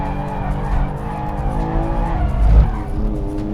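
A BMW M2 drifting on a race track, tires skidding and squealing over a loud, steady engine roar, close and continuous, with a brief surge in the middle.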